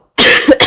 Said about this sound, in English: Sorry for coughing at you guys.